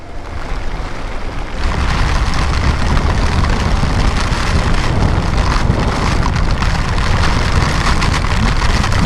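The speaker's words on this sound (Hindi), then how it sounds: "जबरदस्त बारिश है यार।" Heavy monsoon rain pours during a ride on an Xpulse 200 4V motorcycle along the Tamhini Ghat road in Maharashtra. A loud, dense wash of rain and wind noise swells after a second or so and stays steady, with no talking.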